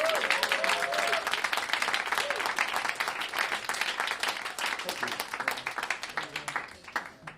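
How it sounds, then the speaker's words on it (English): Audience clapping for a band at a concert series show, loud dense applause that holds steady and then thins out and fades near the end, with brief voices at the start. "How about a little round of applause for these guys?"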